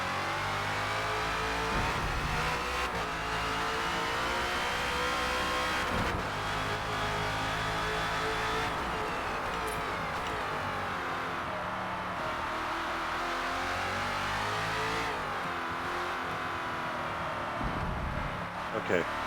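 A Ford Falcon FG X race car engine in Forza Motorsport holds a steady, loud drone at sustained throttle on the Indianapolis GP circuit, with pitch rising and falling through gear changes while someone talks over it throughout.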